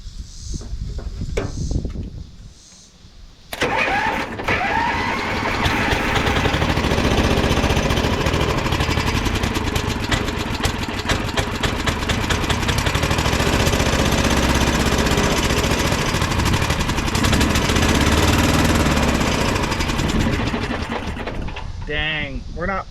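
An old Heald Heavy Hauler three-wheeler engine, primed with a shot of fuel, hammers and sputters loudly for about seventeen seconds before cutting out, with brief voices before and after.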